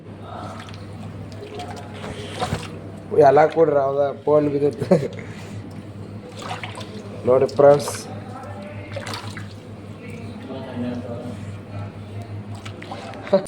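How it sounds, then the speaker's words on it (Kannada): Water splashes and squishes as it is poured over idli rava and worked in by hand, in uneven bursts of sloshing under and between casual talk close by. "ನಾವೀಗ ನೀರನ್ನು ಹಾಕುತ್ತಿದ್ದೇವೆ ಇಡ್ಲಿ ರವಕ್ಕೆ"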